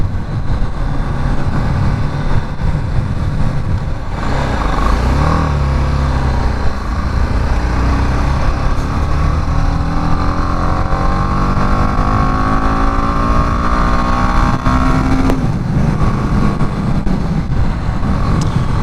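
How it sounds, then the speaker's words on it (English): A BMW G310GS motorcycle engine pulls away uphill in third gear from a roundabout on a steep hill, a steady loud drone with rising revs and a clear climbing pitch near the end, no voices. "that bit of throttle going uphill, that was third gear pulling away from a roundabout on a fairly steep hill"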